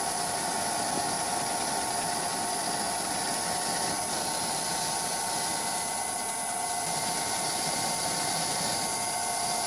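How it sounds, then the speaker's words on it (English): A lathe turns down the shoulder of a bolt so it fits a banjo slot on a wood lathe tool rest, giving a steady, loud machine drone with a constant whine and no breaks or voices. "Turning down the shoulder a bit more, because the bolt could not fit inside the banjo slot."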